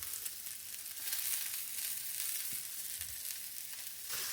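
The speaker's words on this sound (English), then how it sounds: "There's the burgers flipped over. With a lovely sear on there" Burgers sizzle on a Blackstone 22-inch E-Series electric griddle, a steady broadband frying hiss that holds close and even throughout, with a few faint scraping bumps near the middle.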